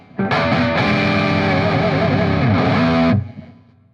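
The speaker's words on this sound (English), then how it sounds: "if you go to the front pickup, you get some of the thickest sounds as well" Distorted electric guitar on its front pickup, thick and sustained with a chorus-like shimmer, rings loud and close for about three seconds, then is cut off and decays into quiet.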